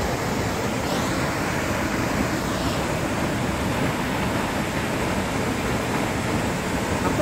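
The Edessa waterfalls in Greece roar loudly and continuously, a dense broadband rush of heavy water flow that fills the scene with no voices over it.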